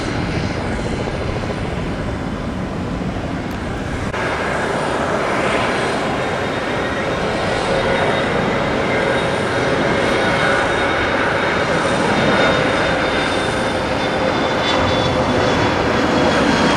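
A Spirit Airlines jet on its takeoff roll toward Fort Lauderdale gives a loud, sustained engine roar with a broad rumble and a whining high tone, steady for the whole stretch.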